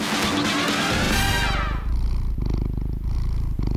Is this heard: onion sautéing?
no